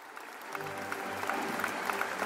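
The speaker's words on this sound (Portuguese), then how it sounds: "Houve uma salva de palmas" A round of applause from a group of listeners in a children's story, a brief, moderately soft patter of clapping that continues steadily.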